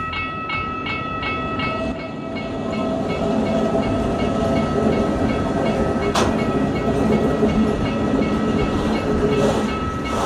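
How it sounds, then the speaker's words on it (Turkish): A train rolls into Belemedik in Turkey's Taurus Mountains with steady rumbling and rhythmic clickety-clack of wheels, loud and close, with a sharp metallic clank partway through. "Ve tren geliyor işte."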